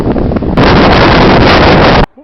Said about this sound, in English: It's a bit windy, so if you can't hear me,